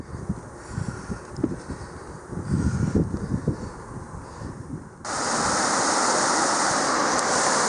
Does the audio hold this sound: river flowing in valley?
yes